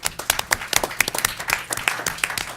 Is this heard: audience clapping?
yes